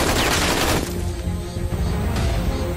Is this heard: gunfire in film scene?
yes